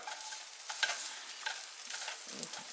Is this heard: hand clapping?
no